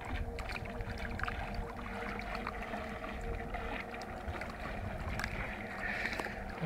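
A Carponizer bait boat runs across open water, its small motor giving a steady low whir with wind buffeting and light water splashes, heard from the shore at moderate distance.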